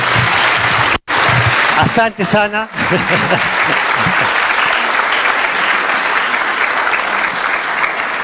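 Audience applause at a business forum breakfast and expo for the chief guests: steady, dense clapping fills the whole clip at close range, briefly broken by a short spoken thank-you near the start.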